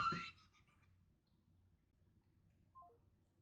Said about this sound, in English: I knew at some point my phone was going to ring during one of these videos.